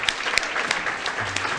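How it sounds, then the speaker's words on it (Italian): Audience applause at a live event on digital illusion and reality, a steady wash of clapping hands lasting the whole moment at moderate loudness, with no voices on top. "facciamone un bel applauso"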